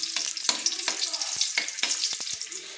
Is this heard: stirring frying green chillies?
yes